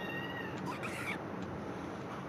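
A cat meows and yowls in a GTA Online heist, a brief cry standing out over steady game background noise, with no talk.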